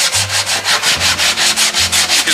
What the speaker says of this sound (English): I'm gonna block sand this now